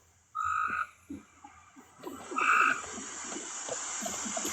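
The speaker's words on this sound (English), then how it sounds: "Is that your frog, Sam?" Frog croaking up close, loud pulsing croaks in a couple of bursts with a quieter rattling trill between them, alone without talk.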